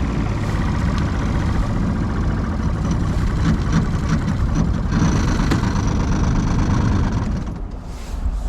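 A 16-foot open Clacker Craft boat's engine idles during a water test, a loud, steady, low rumble that carries on without a break and eases off slightly near the end, with no voices.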